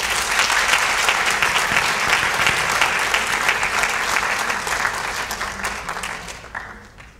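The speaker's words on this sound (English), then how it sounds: "Big round of applause for him." A concert audience applauds a young performer of a traditional art, steady full clapping that holds strong for several seconds before tapering off at the end.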